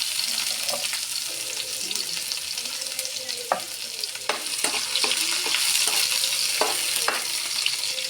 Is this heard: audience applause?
no